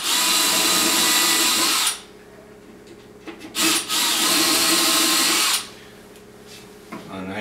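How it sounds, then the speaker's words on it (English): Power drill boring holes in a wooden beehive body, two long loud whirring runs with a brief buzz between them, close up, ending in quieter handling noise. "then what you do is you drill the holes opposite that"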